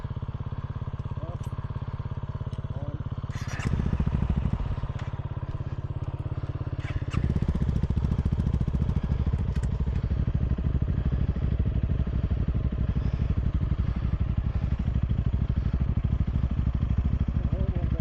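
An IBEX450 motorcycle runs steadily in the woods, its loud, close engine droning throughout with a brief surge partway through and faint clatter over the top.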